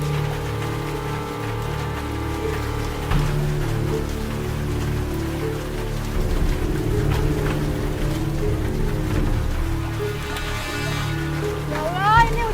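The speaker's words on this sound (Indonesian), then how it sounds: "ini hujan nggak berhenti ya dari tadi ya" Steady rain falls continuously on surfaces outside a house, a dense even patter with a faint mechanical hum beneath and a brief chirping tone near the end.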